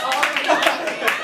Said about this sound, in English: people ambiguously clapping